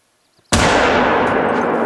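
A single loud hunting rifle shot at a moose in the video game theHunter: Call of the Wild. After a brief near-silence, a sharp crack is followed by a long, rolling echo that fades slowly.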